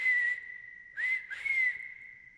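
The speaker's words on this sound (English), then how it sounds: "I can't whistle. Mine just comes out really airy." A person whistles a breathy, airy tune with a few sustained tones and small pitch bends, close and fairly faint against a quiet background.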